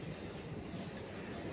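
A crowded passenger train runs along the rails with a steady, faint rumble and a low, continuous rolling drone heard from inside the carriage.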